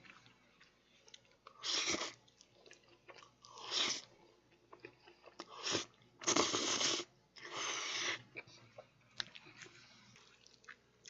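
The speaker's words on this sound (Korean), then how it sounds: "스파게티 아, 먹어보겠습니다." Someone eating spaghetti chews close to the microphone, producing several separate bursts of wet, squishy mastication with quiet pauses between them and no talk.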